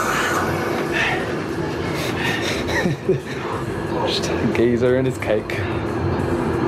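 A London Underground Piccadilly line train carries the listener. Its rumble and clatter run continuously under lively nearby talk and laughter, with a brief rising whine of motors toward the end.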